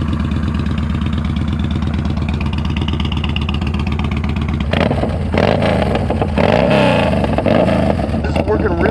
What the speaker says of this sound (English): we're gonna take a quick ride on the bike just to test out the exhaust